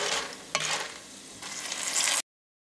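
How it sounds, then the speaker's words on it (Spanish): Tomato sauce poured over toasted shell pasta frying in a pan, a loud close hiss and sizzle with scraping stir strokes, a sharp clack early on, then the sizzle surges before cutting off abruptly. "Ahora vamos a agregar la salsa de tomate."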